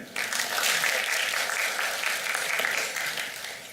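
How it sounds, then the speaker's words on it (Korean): A seminar audience applauds a correct answer with a burst of dense, steady clapping that holds evenly for several seconds before easing off at the end. "박수 한 번 주세요."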